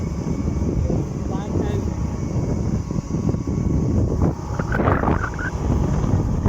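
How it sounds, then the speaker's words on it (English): Strong wind outdoors beside a college hostel building buffets the microphone with a continuous loud low roar and rumbling gusts, while muffled voices can be heard underneath it. "Our voice may be not audible now because we are quite windy"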